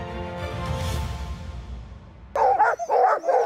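Sled dogs that run long-distance races such as the Iditarod bark in a quick flurry of loud, close barks near the end, after a low rumbling stretch.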